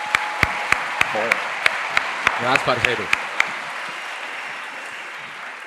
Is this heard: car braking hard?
no